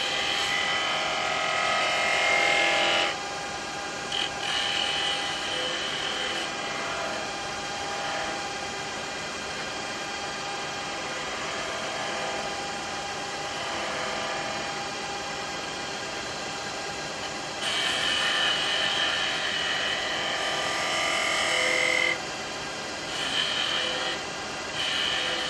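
A wood lathe spins while a pointed gouge shapes a wooden snowman hat, giving a steady close rubbing, rasping hiss with a high whine throughout and brief louder cutting passes near the start and the end.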